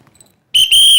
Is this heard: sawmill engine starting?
no